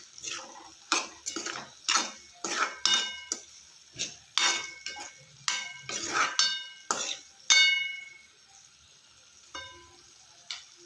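Cooked fresh green peas palya stirred in a pan with a metal spoon, a quick series of clinks and scrapes against the pan in an uneven rhythm, close and clear with a faint sizzle underneath.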